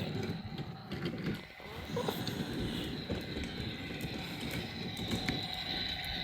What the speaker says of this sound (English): When you start moving, the lights will turn on and the engine will start up